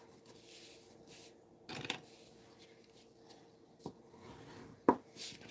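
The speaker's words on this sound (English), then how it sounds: "we'll fold and burnish our card base" A paper card base being folded and burnished on a tabletop at close range: soft rubbing and scraping strokes broken by a few sharp creasing snaps and taps, with nobody talking.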